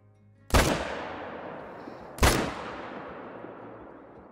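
Two loud rifle shots in a hunting video game, about two seconds apart, each a sharp crack followed by a long, fading echo.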